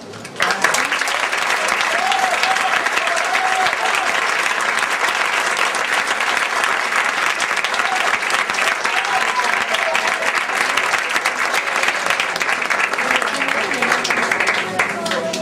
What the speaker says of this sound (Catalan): Un fort i sentit aplaudiment per a un gran amic del nostre director Benjamí, José Palomer.